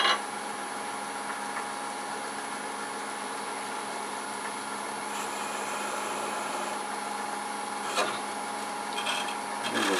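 A skew chisel cutting a wooden Santa figure spinning on a lathe at reduced speed, a steady close rasping hum from the running machine with faint scraping and a couple of brief ticks.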